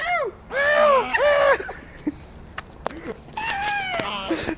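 A cat meows several times, drawn-out wavering cries with short gaps between them, fairly close, with scattered thumps and small background noises.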